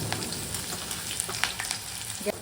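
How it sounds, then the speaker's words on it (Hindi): Green chilies frying in hot oil, a close, steady sizzle with scattered crackles and pops across the whole stretch and no talking. "अब हमारी जो हरी मिर्ची है वो तल लेंगे हम।"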